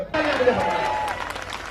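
Applause from the crowd at a 2015 Delhi election rally in Shrinivaspuri breaks out abruptly and holds as a steady wash of clapping that slowly thins, with a speaker's voice over it.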